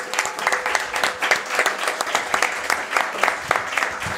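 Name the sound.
short round of applause from audience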